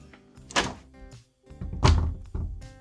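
A therapy light mounted on a door swings and bangs against it as the door opens, giving a few dull, hollow thunks in quick succession, close and fairly loud.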